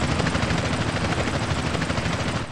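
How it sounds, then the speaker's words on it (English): Helicopter pursuit in GTA San Andreas: a steady, loud rotor chop with a dense mechanical roar, continuous and close throughout, with no voices. "Chopper on our tail."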